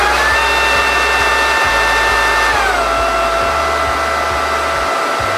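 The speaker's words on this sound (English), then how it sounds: "typical motor with a fan and it's going to run it also at 60 hertz" A band saw's fan-cooled motor runs at 60 hertz with a steady, loud whirring hum and a faint rhythmic low thump, its pitch dropping slightly partway through, with no talking.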